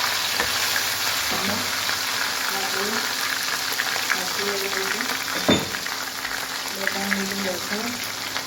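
Cumin seeds crackle and sizzle in about three ladles of hot oil in a home kitchen, a steady broad frying hiss with a sharp clink of utensils midway, while a voice talks over it throughout.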